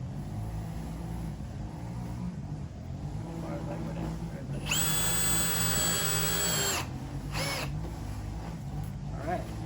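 Power drill driving screws into wooden bracing on an RC crawler course: a loud, steady motor whine for about two seconds, then a brief second burst, over outdoor background noise.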